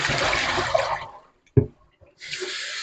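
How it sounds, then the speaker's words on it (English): Mustard greens rinsed under cold running tap water in a sink: a full rushing stream that cuts off, a brief clunk and splash, then the flow resumes. "So let's give that a good rinse."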